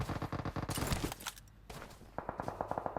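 Rapid gunfire from a weapon in the mobile game PUBG Mobile, loud bursts of shots in quick succession, a brief lull, then another steady volley of shots.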